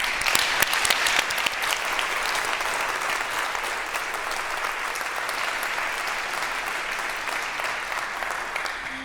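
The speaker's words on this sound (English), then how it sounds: "let's thank the Klaus Tschira Foundation, Heidelberg Laureate Foundation, with a warm round of applause" Warm, sustained applause from a large opening-ceremony audience, dense clapping that starts strong and holds steady without a break.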